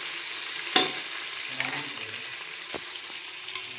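Onions sautéing in hot oil for a Tamil-style mushroom gravy, a steady soft sizzle with a few louder stirring clatters of a utensil against the pan, close up and with no talking.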